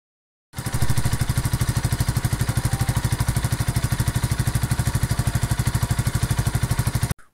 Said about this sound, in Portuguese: o ronco do motor dela aí para vocês ouvir, galera